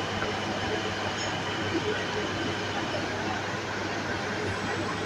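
A metro train pulls into the station, a steady loud rumble of rolling wheels and motor noise that fills the platform without a clear rise or fall.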